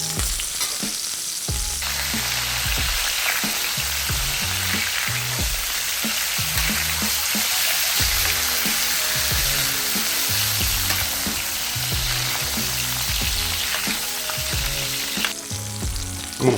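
Pork chops fry in a hot pan with butter and fresh thyme, a loud, dense, continuous sizzle close by, with occasional low scraping and knocking from a utensil and no one speaking.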